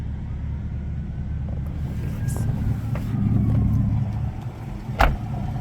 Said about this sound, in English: You can hear that exhaust just rumbling.